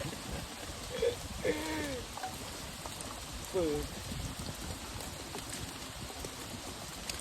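Rain patters steadily while fishing near an island, a soft, even hiss with a few faint voices and brief tonal sounds drifting over it.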